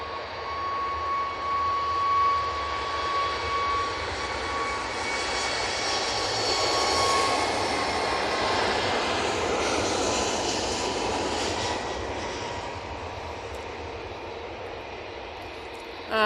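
A Ryanair airliner rolls out after landing at Manchester Airport, its jet engines roaring loudly and steadily with a whining tone, holding strong before tapering off toward the end, with no voices.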